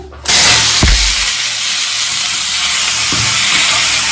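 Chopped beet, carrot, potato, broccoli and whole chillies drop into a hot pan and burst into a loud, steady sizzle that fills the rest of the moment, with a couple of brief stirring knocks.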